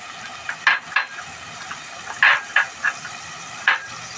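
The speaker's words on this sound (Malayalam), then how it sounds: "മുളക് ചതച്ചതും ഇട്ട് കൊടുക്കുന്നുണ്ട്" Crushed chili and garlic paste fry together in oil for chicken thoran, a low sizzle punctuated by several brisk, close stirring scrapes at an uneven pace.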